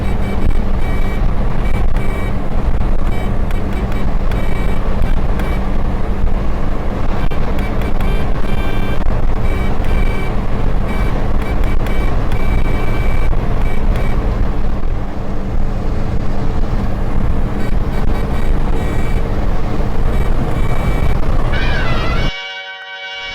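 A Kei car drives along a highway at night with steady, loud road and engine noise that continues unbroken for over twenty seconds, then cuts off sharply at the end.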